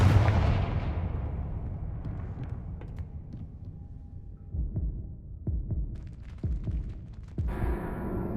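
A Confringo spell in Hogwarts Legacy sets off an explosion, a heavy boom that decays into a low rumble, followed by scattered thuds and impacts.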